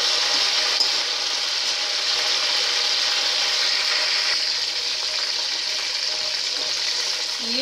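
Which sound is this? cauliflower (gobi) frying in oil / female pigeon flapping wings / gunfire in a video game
cauliflower (gobi) frying in oil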